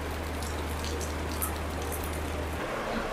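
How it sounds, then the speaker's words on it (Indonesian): Heavy rain pours steadily at Merak harbour as a dense, even hiss of drops striking surfaces, with a low constant hum underneath for most of the stretch. "Tapi hujannya masih deras sih"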